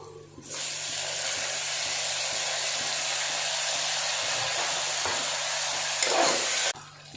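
Onions and tomatoes sizzle in a pan while palak biryani is cooked, giving a loud, steady hiss that starts abruptly, holds evenly for several seconds with a brief surge near the end, then cuts off.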